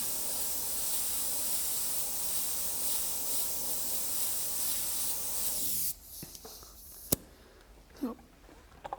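A steady, loud hiss of an airbrush spraying paint onto a Trek Madone bicycle frame fills the first six seconds, then stops, leaving quiet clicks and faint handling noises.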